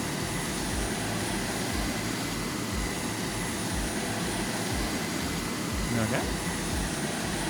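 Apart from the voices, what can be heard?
airplane engine in video game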